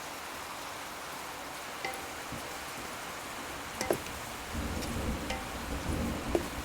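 Steady rain falls outside during monsoon weather, a soft continuous broadband patter with a few louder drops and rustles, heard alone at moderate distance without any voices.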